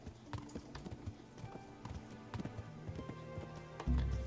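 Horse hooves clip-clop in a steady walking rhythm in the video game Kingdom Come: Deliverance, ending in a louder burst of rumble.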